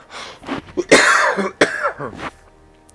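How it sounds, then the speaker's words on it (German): A person coughs several times in short harsh bursts and clears the throat, close and loud, ending in quiet. "Und muss nochmal husten, Entschuldigung."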